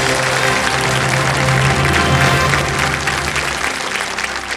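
Studio audience on the KBC game show applauding, a steady, loud wash of clapping that holds for several seconds before easing slightly, with music tones underneath.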